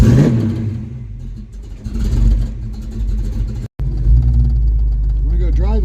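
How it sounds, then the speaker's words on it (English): A car engine turns over and runs after carburetor choke adjustments, rumbling and revving at close range with a short dropout midway, then settling into a steady idle. "Made some more adjustments. Let's see if it'll start."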